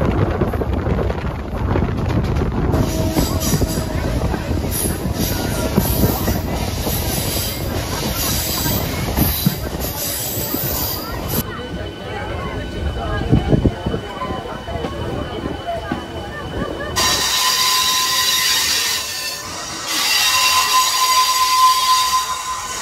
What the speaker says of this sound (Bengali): ছেড়ে দিল আমাদের ট্রেনটি রামনগর রেলওয়ে স্টেশন থেকে।